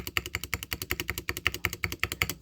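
Repeated presses of the backspace key on a Polar 65 mechanical keyboard, a quick, even run of about a dozen sharp, clacky clicks, close and crisp with no talking.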